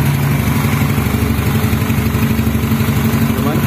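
A Yamaha Mio motorcycle, started with a homemade ignition cable from the battery, runs steadily up close with a continuous, even, rhythmic engine chug and no pauses.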